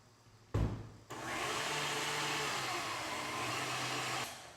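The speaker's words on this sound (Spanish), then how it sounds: "Y vamos a batir un poquito más fuerte que se integre todo muy bien." Electric mixer beating a butter mixture for cookie dough, starting with a brief loud burst and then running as a steady whirring motor hum for several seconds before stopping; no talking.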